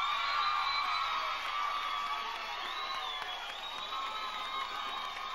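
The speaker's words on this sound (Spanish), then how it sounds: "Fuerte ese aplauso, fuerte el apoyo" An audience at a salsa dance contest final applauding and cheering the winning couple, a dense, sustained wash of clapping and crowd noise with shouts, even throughout.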